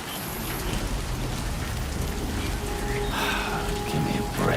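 Timefall rain in the video game Death Stranding 2, a steady, dense hiss of rain falling on surfaces throughout, with a brief tonal in-game sound partway through.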